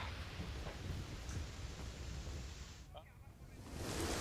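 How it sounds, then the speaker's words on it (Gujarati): Steady broadband rain hiss during a downpour in Ahmedabad, Gujarat, holding loud and continuous throughout and swelling slightly toward the end, with no clear thunder or voices standing out. "અમદાવાદ શહેરમાં વરસાદ થઈ રહ્યો છે."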